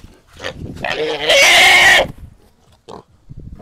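Loud, high-pitched squeal from a pig being held down and tied at a village Tet celebration, one sustained shriek about a second long, with fainter grunts, people talking and scattered handling noises before and after.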